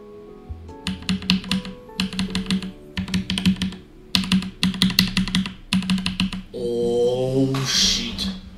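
Rapid bursts of typing on a Keychron K2 70% keyboard with Gateron Brown switches, close and clear, coming in short rhythmic runs with brief pauses, then a softer rattling stretch at the end.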